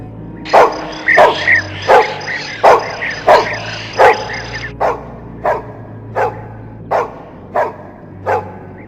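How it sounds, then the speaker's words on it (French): A small dog barks repeatedly outdoors in a steady rhythm, about a dozen sharp barks, loud and close, with no other sounds between them. "Regarde, Julien, il y a un petit chien qui nous observe dehors"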